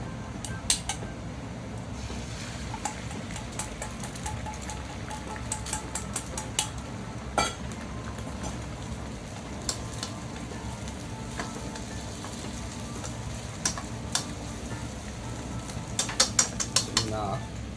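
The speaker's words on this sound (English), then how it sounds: "So make a scrambled egg first." Egg scrambles in a hot pan for scallop fried rice, a steady close sizzle broken by frequent sharp clicks and scrapes of a utensil against the pan.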